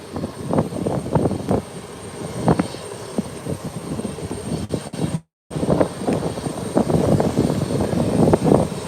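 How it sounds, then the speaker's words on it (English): A Beechcraft 1900 turboprop taxis onto the runway at Howard Hamilton International Airport, its engine drone steady and fairly close with rising and falling surges, briefly cut out midway before resuming. "And now the second Beechcraft 1900 is heading onto the runway"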